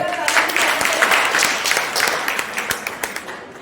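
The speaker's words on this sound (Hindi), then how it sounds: "तो इनका जोरदार ताली बजाए" A crowd at a national domestic women workers' union election meeting gives hearty, sustained applause for its newly elected president, the clapping dense at first and then thinning into scattered claps.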